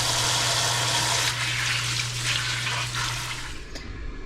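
Garden lettuce from an Alaska homestead being rinsed under running water, a steady, close splashing and rushing flow with a low hum underneath, easing off near the end.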